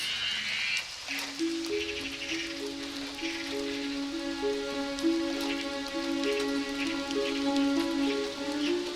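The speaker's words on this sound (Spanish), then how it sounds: "se asomó a ver cómo la lluvia desfloraba los surcos" Steady rain falls on furrowed farm earth, a dense continuous patter that holds evenly throughout, with a few frog-like croaking tones mixed in from about one second onward.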